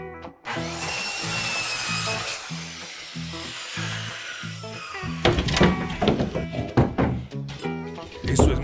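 A power tool cuts through a wooden shelf support inside a kitchen cabinet, starting as a steady droning whine and then breaking into louder, irregular cracking and rattling as the wood gives way.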